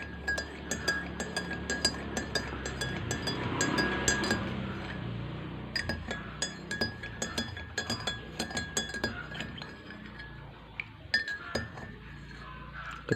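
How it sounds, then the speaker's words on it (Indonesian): A spoon clinks against a glass while milk is stirred into water, with a rapid run of light, bright taps that grow sparser and scattered toward the end. "kita aduk rata hingga susunya larut dalam air tersebut"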